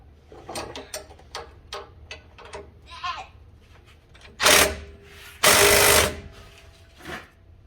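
Impact or power driver running on the 17mm bolts of Metalcloak differential armor on a Jeep axle, two loud sustained bursts after a stretch of light clicks and handling noises, close up with no talk.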